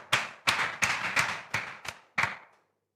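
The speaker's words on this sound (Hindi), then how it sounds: "सेजल, सोनी और वर्षा पाल के लिए एक बार ताली हो जाए" Seven sharp, evenly spaced claps ring out together in a classroom show as applause for qualifying students, each one loud and crisp before the room falls silent.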